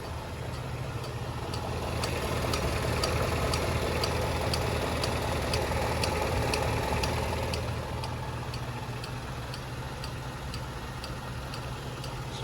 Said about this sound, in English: That comes from the cooling fan